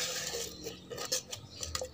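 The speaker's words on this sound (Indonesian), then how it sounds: "kita akan ambil setengah sendok makan saja" A metal spoon scooping a half tablespoon of clumped Supernasa organic fertilizer, several soft scrapes and light clinks against the container, quiet and close.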